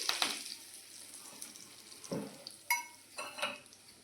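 Curry leaves go into hot oil with mustard seeds, cumin and cloves for an onion malai curry, and they sputter and crackle in several quick, irregular bursts over a quiet, faint sizzle, with no talk.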